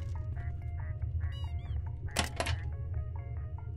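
Ducks quack in the video game Obenseuer: a few short nasal calls stand out, then a loud burst, all set against a steady low hum and faint repeating game tones.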